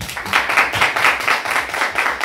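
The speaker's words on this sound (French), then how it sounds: "Je vous demande d'applaudir très très fort les Babies" An audience applauds and claps for the Babies dance group taking the stage at a dance event, a dense, steady crowd clapping that swells in rhythmic waves, loud and close, with no talking.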